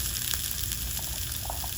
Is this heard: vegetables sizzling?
yes